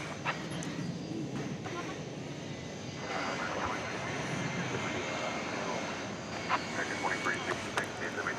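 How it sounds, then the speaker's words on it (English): A UPS Airbus A300 jet taxis at an airport at night, its engine a steady broadband roar heard from some distance, with faint background noises. "right behind me there, just pulled out, is a UPS A300"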